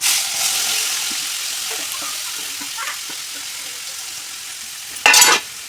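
Garlic, curry leaves, cumin, chili and turmeric sizzle steadily in a hot pan with faint stirring scrapes, ending in a brief louder splash-like burst near the close.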